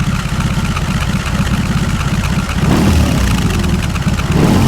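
A BMW R18 Bagger motorcycle engine idles out of gear with the clutch pulled in, a loud, close, deep pulsing throb that swells slightly louder partway through.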